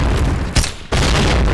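A grenade explodes in the online shooter Point Blank, a loud, close, deep boom that briefly drops away before the dense game din resumes.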